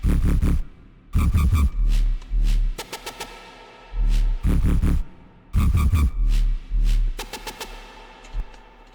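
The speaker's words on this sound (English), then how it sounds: "So altogether, those bass sounds sound like this." Dungeonstep synth bass layers play together in a pulsing pattern, heavy low-end notes hitting in repeated bursts with brief gaps, loud and upfront with no voices.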